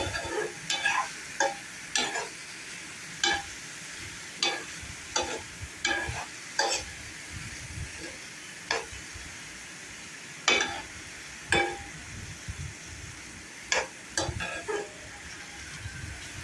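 A utensil stirs bitter gourd (pavakkai) fry in a pan over a soft, steady sizzle, making repeated scraping strokes at an uneven pace, with no talking.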